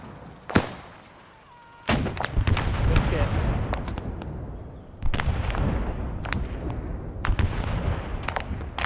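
Gunfire in the Vietnam War game SOG Prairie Fire at Khe Sanh, with repeated sharp shots and bursts, some loud and close, others more distant, over a constant battlefield rumble.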